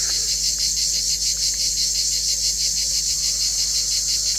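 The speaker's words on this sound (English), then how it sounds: "those times are when the cicadas are at their worst" Dense, continuous buzzing drone of cicadas in the heat, steady and loud with a faint pulsing texture and no voices.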